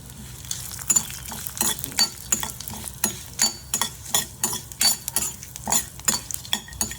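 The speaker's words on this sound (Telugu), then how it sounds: "ధనియాలు, లీఫ్ వీటన్నిటిని ఫ్రై చేసుకోవాలి." Coriander seeds and bay leaves fry in a pan with a soft sizzle while a metal spatula scrapes and clinks in a steady, quick rhythm, close and fairly loud.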